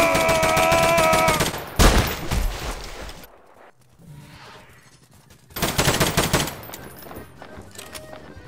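Rapid automatic gunfire in the video game Garry's Mod, loud sustained bursts opening and closing the stretch, with a quieter lull in between.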